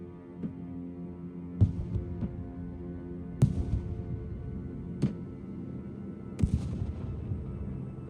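Artillery fire in the real-time strategy game Broken Arrow, during a push into a city: about four sharp, moderately distant booms at irregular intervals, each with a short rumbling tail, over a steady low battlefield hum.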